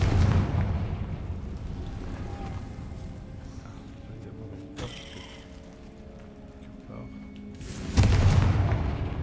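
Booming spell explosions from Hogwarts Legacy, cast with Confringo and Bombarda, rumble through dense game audio with low thuds and a sharp burst near the end.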